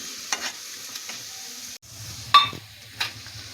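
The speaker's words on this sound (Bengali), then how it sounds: "আরও কিছুক্ষণ ভাজবো।" Red amaranth leaves (lal shaak) fry in a pan as a utensil stirs them, with scattered scrapes and metallic clinks over a steady quiet sizzle and no talking.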